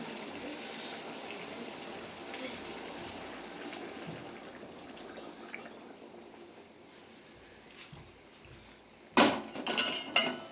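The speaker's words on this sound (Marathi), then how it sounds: "पाणी टाकूयात आपण आता" Water poured into a pan of chicken curry on the stove, a quiet simmering hiss that ends in a few loud clattering splashes and metal clinks near the end, with no speech.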